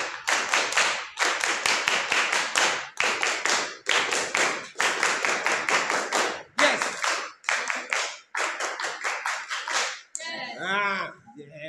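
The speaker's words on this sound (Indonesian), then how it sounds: "Tepuk pramuka." A seventh-grade class in scout uniform performs the rhythmic scout clap, bursts of sharp, close hand claps in set patterns separated by short pauses, ending with children's voices.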